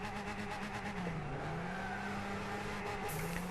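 Engine of a car doing a burnout in the racing video game Gran Turismo 6, a steady droning rev with shifting pitch and a faint tire-squeal edge, loud and continuous with no talk.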